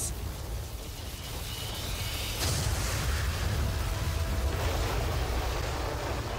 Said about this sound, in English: That's the sound of Lord Hadlar using his most powerful spell, Kaziz.